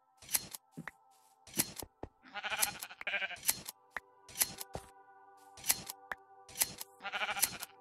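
Blocky sheep in Minecraft Xbox 360 Edition bleat repeatedly in short, loud calls spaced through the scene, mixed with snipping shear sounds and a steady game music tone underneath.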